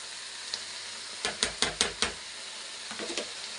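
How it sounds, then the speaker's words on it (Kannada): Vegetables for a vegetable sabzi frying in oil: a soft, constant sizzle under a quick run of sharp spoon knocks and scrapes against the pan, then two fainter taps, close by, with no one talking. "ಇದೆಲ್ಲ ಸ್ವಲ್ಪ ಫ್ರೈ ಆಗಲಿ ಚೆನ್ನಾಗಿ ಬೇಯಬೇಕಿದು ಎಣ್ಣೆಲೆ ಬೇಯಲಿ"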